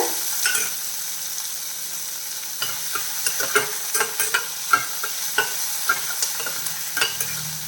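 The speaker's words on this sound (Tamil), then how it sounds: "வெங்காயத்தை நல்லா வதக்கிக்கோங்க" Finely chopped onion sautéing in a pan, a steady low sizzle under repeated crisp scraping and tapping of a spoon stirring at a fairly even pace, close by with no talking.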